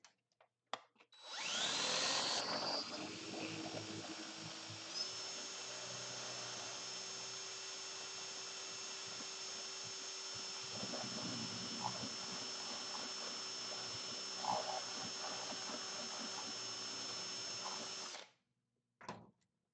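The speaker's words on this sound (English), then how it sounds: "The sound of the drill must be horrendous on the camera." A power drill carving a small workpiece whines at a high steady pitch for about sixteen seconds, close and continuous, with slight changes in tone as it bites, then spins down to silence.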